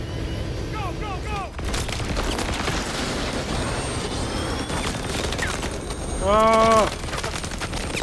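Gunfire from the PC video game Call of Duty Advanced Warfare: dense, rapid automatic bursts fill the whole clip, with game voices and a brief exclamation over the din.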